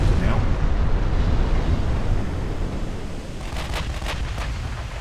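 A heavy shell strikes a battleship in the naval game Ultimate Admiral: Dreadnoughts, a loud roaring blast with rumbling, surf-like wash that slowly fades, followed by a few sharp crackles near the end.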